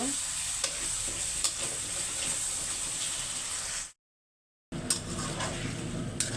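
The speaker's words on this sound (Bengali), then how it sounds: "মাছ ভাজা হয়ে গেছে তরকারিটা কষিয়ে নিচ্ছি মশলাটা" Spices and fish curry sizzle and crackle in a hot pan with intermittent stirring scrapes, close and steady, interrupted by a brief silent gap before the frying resumes.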